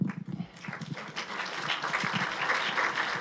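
Audience applause at a conference, starting with a few scattered claps and then swelling into a steady, moderately loud round of clapping from a medium-sized crowd.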